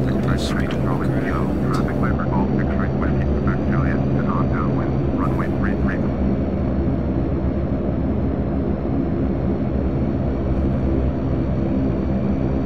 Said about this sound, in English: let us pick up a little bit of speed and walk around.